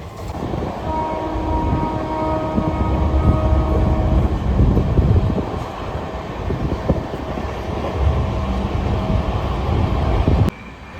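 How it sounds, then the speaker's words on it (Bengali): A Kabiguru Express train rumbles past an Up Gour Express in a steady, loud roar of wheels and carriages. A faint horn tone comes through early, and the rolling noise ends in a sharp cutoff near the end. "মাঝখানে আবার ঠিক ধেয়ে এসছে কবিগুরু এক্সপ্রেস, ওভারটেক করে বেরিয়ে যাচ্ছে আপ গৌড় এক্সপ্রেস"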